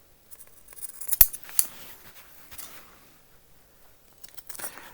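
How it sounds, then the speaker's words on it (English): Scissors snipping the seam corners of sewn fabric for a summer shirt, a few crisp close clips followed by softer handling rustles in an otherwise quiet room. "So clip the corners"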